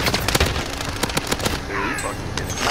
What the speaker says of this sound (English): Bro, stop shooting me